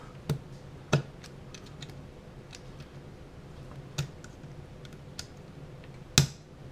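A small screwdriver prying tabs and pushing out metal battery contacts on a Game Boy DMG during a repair, giving a few sharp isolated clicks and ticks up close in a quiet room, with no talking.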